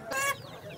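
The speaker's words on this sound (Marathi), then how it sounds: "आपल्याला साध्या कोंबडीची पिल्लंसुद्धा या ठिकाणी बघायला मिळत आहेत." A single short chicken cluck sounds at a poultry market, brief and fairly clear against quiet background murmur.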